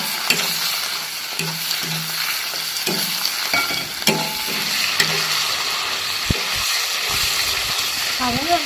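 Pork offal tipped into a hot pan sizzles and spits while a utensil scrapes and stirs in uneven knocks, the frying hiss continuous and close.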